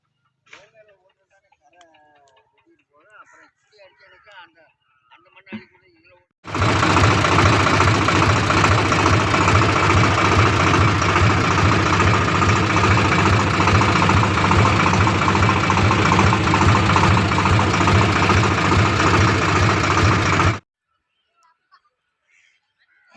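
A rotavator tractor's engine runs loud and close in a village field, a steady dense rumble lasting about fourteen seconds, preceded and followed by quiet with faint background sounds.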